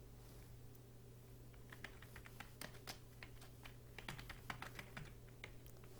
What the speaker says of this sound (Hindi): नाम टाइप करेंगे और उसके बाद ईमेल एड्रेस टाइप कर लेते हैं